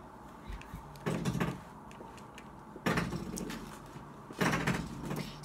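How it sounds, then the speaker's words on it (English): A door bangs against a small fitting indoors, three sharp knocks spaced a second or two apart and each followed by a short rattle, over a quiet room. "So that's Erin just banging the door against the little bit thing"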